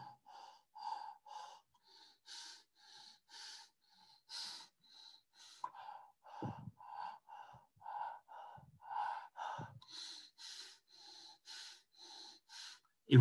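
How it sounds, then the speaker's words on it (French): Repeated breaths are drawn in, first through the mouth and then through the nose, in a steady run of soft airy inhales and exhales. A few low snorts come through, and there is a sharp noise at the very end. "On va respirer par la bouche et passer tout de suite par le nez."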